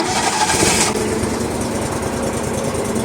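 Toro Dingo TX 427 compact utility loader engine running, a steady close, loud mid-pitched drone with a brief brighter burst at the start that settles into an even idle.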